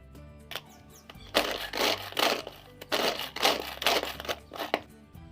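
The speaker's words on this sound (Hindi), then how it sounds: "अब मैं इसे चॉपर में डालकर बहुत ही फ़ाइन चॉप्ड कर लूँगी।" Onions being finely chopped in a kitchen chopper, a run of rapid crunching, rasping bursts that come in repeated pulses with short pauses between them, close up and fairly loud, with no talking.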